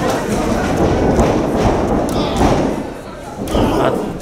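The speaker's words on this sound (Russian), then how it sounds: "Отличный немецкий суплекс!" In an IWF pro wrestling match, a wrestler is slammed to the ring by a German suplex, giving heavy thuds and impacts over a dense, continuous wash of arena noise and voices.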